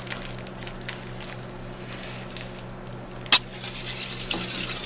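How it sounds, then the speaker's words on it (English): Spring roll filling with a tablespoon of brown sugar being stirred in a bowl, a soft steady scraping and mixing close by with one sharp clink partway through, then brighter rustling toward the end. "So we're just going to mix this up real well."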